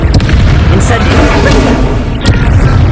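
An Incendio fire spell is cast in the Hogwarts Legacy video game with a loud, booming burst in the midst of a noisy fight, and a voice is heard over the dense combat sounds.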